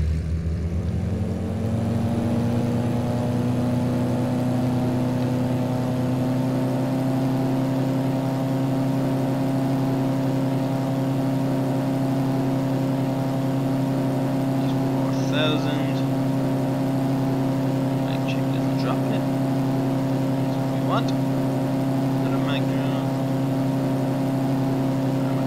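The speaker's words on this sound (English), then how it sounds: "then I'll bring up the power to 4000 RPM." Ikarus C42 light aircraft engine run up to 4000 RPM with the brakes on, a loud, steady droning tone that holds constant, with a few faint clicks partway through.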